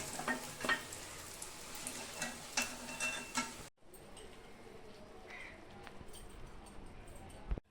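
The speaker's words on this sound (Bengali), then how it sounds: "তো আমি এরকমভাবে সবকটা ভেজে নিব" Stuffed kakrol (teasel gourd) frying in hot oil gives a close, steady crackling sizzle with scattered pops. It is dense and loud at first, then drops to a quieter, thinner hiss.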